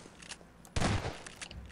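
Gunfire in a Garry's Mod Prop Hunt match: a short volley of shots, with one loud burst in the middle and fainter pops on either side.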